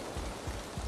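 Steady rain falls in the Valheim game world, a dense, even hiss of drops that stays constant through the short stretch and has no voice over it.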